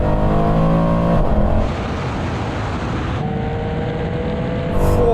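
A 750hp AMG C63 Black Series and a 700hp BMW M3 accelerate hard side by side in a rolling race from 50 mph in third gear, a loud continuous engine roar whose tone shifts partway through.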